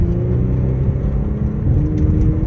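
A Porsche sports car is driven along a street, its engine giving a steady loud rumble and whir close by throughout, with no voices.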